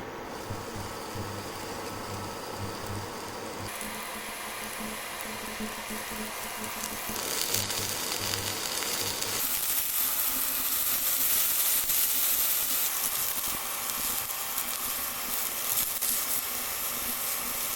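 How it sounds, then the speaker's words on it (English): Sliced mushrooms sizzling in hot extra virgin olive oil, a steady close, bright hissing crackle that swells louder partway through and carries on without a break, no voices. "Once the oil is hot, we're going to be adding the sliced mushrooms"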